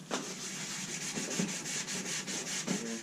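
An axe head being wet sanded by hand with 600 grit sandpaper gives a steady, close rasping rub with repeated back-and-forth strokes.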